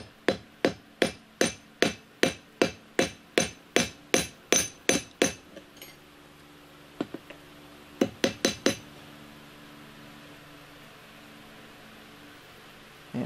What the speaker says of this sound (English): And I'm trying to center the hammer